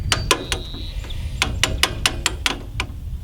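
Bolts are worked loose from a corn planter with a ratchet or wrench, a series of sharp metallic clicks and clanks in an irregular rhythm, close and fairly loud over low outdoor rumble.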